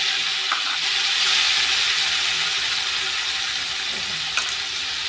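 Spices and bay leaves frying in hot oil in a pan, a steady close sizzle with a couple of faint clicks from stirring and no talking.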